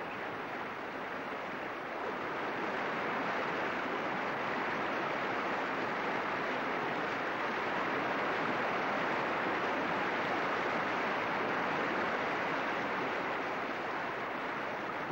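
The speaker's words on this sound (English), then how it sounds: "Its waterfall is irresistible." A waterfall in a small, lush rainforest on Lizard Island gives a steady, full-bodied rush of falling water, loud and unbroken for the whole stretch, with no voices.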